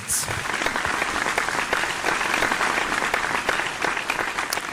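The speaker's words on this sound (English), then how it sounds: "please give another big round of applause for our main stars of the show, our top 8" Live audience at a televised singing competition applauds the top eight singers, a dense, continuous wall of clapping from a sizable crowd, loud and steady throughout with faint cheers mixed in.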